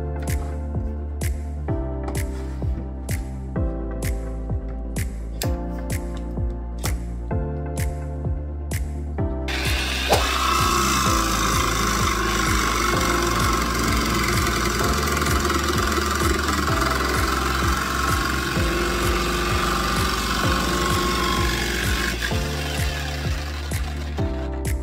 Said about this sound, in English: Now I'm going to clamp it down and cut it.